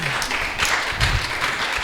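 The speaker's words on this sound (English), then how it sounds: "Could you clap your hands for him?" A crowd claps steadily together, a dense patter of applause filling the space without pause.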